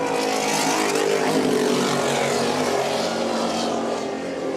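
Offshore racing powerboat at the Key West World Championship, a loud sustained engine roar with steady droning tones, close and continuous, with no voices.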